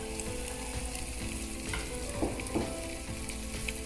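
Biryani masala with mint leaves stirred in a hot pan, a soft continuous sizzle with a few scraping spoon strokes near the middle, close and moderately quiet, no talking.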